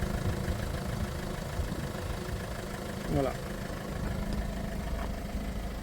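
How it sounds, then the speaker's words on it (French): A Peugeot 1.4 HDI diesel engine idles steadily while warming up after a particulate filter cleaning, a continuous low rumble with a brief soft word spoken over it. "Donc maintenant je vais laisser le moteur chauffer."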